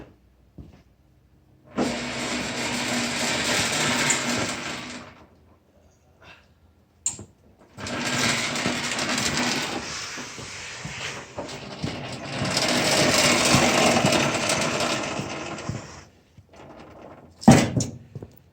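A Craftsman snowblower engine is cranked in a garage, with several bursts of pull-start sputtering and running broken by short silences, loud and near.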